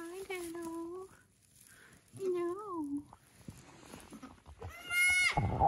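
Baby goats and a mother goat bleat in a barn on a cold winter morning, several wavering cries close by, with a loud final bleat and a quiet background.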